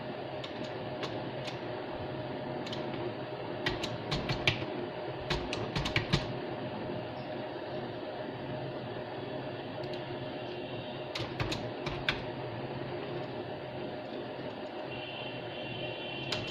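Typing HTML code on a computer keyboard, quiet steady room tone broken by scattered bursts of light key clicks, some quick runs of several keystrokes and long pauses between them.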